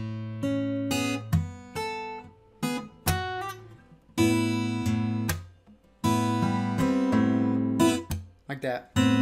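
Slow fingerstyle acoustic guitar lets plucked bass notes and chords ring out, broken by sharp percussive slaps on the strings. The phrases come in separate halting bursts, played close and clear, with no voice over them.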